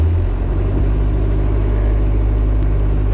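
A diesel Jeep TJ Wrangler labors up a hill in two-wheel drive high, its engine droning loud and close with a steady low rumble and slight throttle variation.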